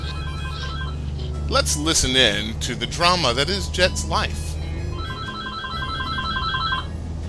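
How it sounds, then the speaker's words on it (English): A telephone rings with a repeating electronic ring pattern, once at the start and again near the end, while someone talks over the ringing in the middle. "I gotta get the phone."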